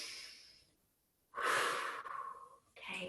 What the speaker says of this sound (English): And breathe in.